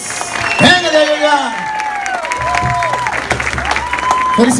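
A wedding crowd applauds and cheers for the bride and groom while a voice talks over a loudspeaker and music plays, the clapping building to a burst near the start and continuing underneath.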